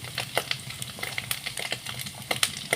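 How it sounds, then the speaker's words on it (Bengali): Chopped ginger frying in oil in a pan for a cumin rice dish made from leftover rice, giving a steady close crackle and sizzle with scattered brighter pops and occasional stirring, no talk. "দেখুন এইভাবে আমি ভেজে নিচ্ছি"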